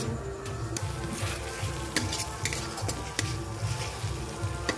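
Ginger-garlic paste frying in a pan with onion for a crab curry, a continuous hissing sizzle broken by sharp ticks and clatters of stirring, with no talk.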